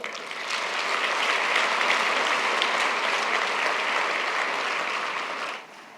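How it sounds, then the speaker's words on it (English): Sustained applause from a conference plenary audience greeting a speaker, a dense steady roar of clapping lasting several seconds before stopping abruptly. "Please, a round of applause for Tariq Al-Ghaib"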